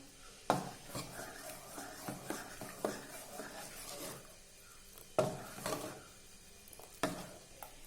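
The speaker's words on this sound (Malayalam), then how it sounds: "ഇനി നമുക്കിത് ചേർത്ത് കൊടുത്ത് നന്നായിട്ട് ഇളക്കി കൊടുക്കാം" Vattayappam batter mixture being stirred, soft scraping and occasional sharper clinks of a spoon against the bowl, faint and close, with irregular strokes and no talk.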